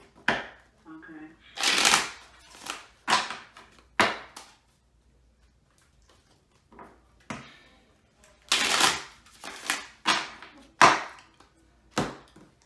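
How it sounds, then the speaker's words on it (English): A deck of playing cards being shuffled, several quick riffling bursts close by, separated by short pauses, with no talking. "let me shuffle these cards one time"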